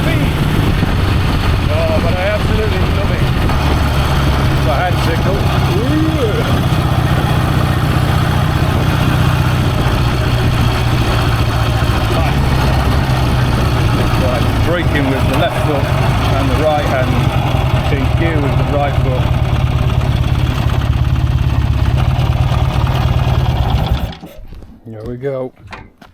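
An old barn-find BSA motorcycle engine with a cracked cylinder runs steadily and loudly at a low, throbbing idle for most of the time, then cuts off abruptly near the end.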